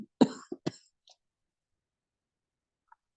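A person coughs on a quiet online class call, giving a few short, close coughs in quick succession near the start, followed by silence and a faint click.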